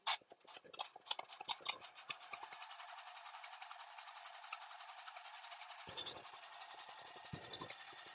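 A home embroidery machine stitches a quilting design on an in-the-hoop mug rug, giving a fast, even mechanical tapping that continues steadily at moderate level, with a brief lower thump partway through.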